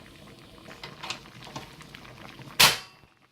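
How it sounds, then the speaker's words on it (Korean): Doenjang stew with wild chives (dallae) simmers in a pot, soft bubbling pops ticking irregularly at low level, then one sharp, louder pop near the end. "오늘의 주인공 달래 한 줌을 넣고 1분 정도만 끓여주면 완성입니다"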